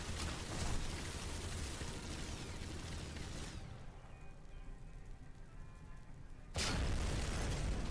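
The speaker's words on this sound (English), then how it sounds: "Oh, it's gonna blow." A Sniper Elite 4 explosion bursts as a loud broadband roar that fades into a quieter rumbling tail, then a second loud blast-like surge returns near the end.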